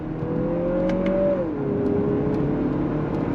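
Engine of a 2023 Lexus NX 350 F Sport accelerating hard on throttle with paddle shifting, a close, steady climbing drone that drops in pitch at a single upshift midway and then keeps pulling, with no voices.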